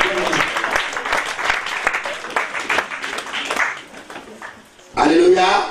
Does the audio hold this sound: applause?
yes